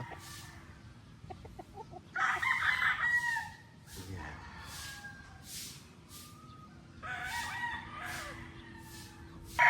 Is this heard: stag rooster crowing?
yes